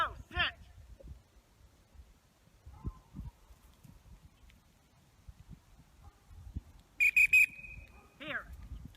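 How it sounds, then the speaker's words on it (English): A dog training whistle gives a few short, sharp, high blasts in a quick cluster, standing out against quiet outdoor background with someone speaking commands before and after. "Say sit, blow the whistle."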